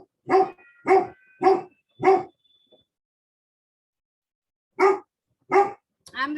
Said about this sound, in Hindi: बेल बजती तो टाइगर पहले भौंकता है, देखने के लिए कौन आया है।